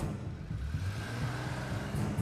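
A car engine idles and revs up close by as the car is driven off, with a steady low rumble and no voices.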